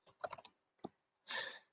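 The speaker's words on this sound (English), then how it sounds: "I'm just randomly typing some crap" Quick, light keystrokes on a computer keyboard as a street address is entered, a short burst of clicks, a brief pause, two more taps, then a longer rattling press, close and alone.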